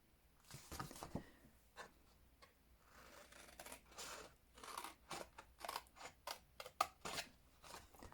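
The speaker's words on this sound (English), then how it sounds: "I'm going to cut 1/2 inch there." Scissors snip through card while a gift box is being cut, a run of close, crisp cuts and crunches coming in uneven bursts, with no talk.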